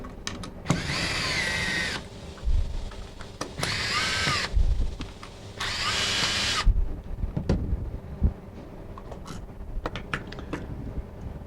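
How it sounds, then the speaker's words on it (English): Screws come out of the front cover of a Davcron 433 brick remote in three short, whirring bursts from a power driver, followed by scattered small clicks and taps, close and without speech. "That's simply done by removing these 4 screws."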